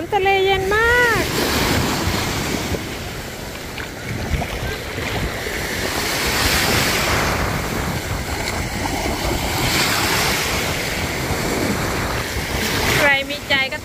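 Wind-blown surf breaking on the beach at Phra Tamnak in Pattaya on a breezy day, a continuous loud wash of waves with gusty wind noise on the microphone and brief whistle-like tones at the start and end.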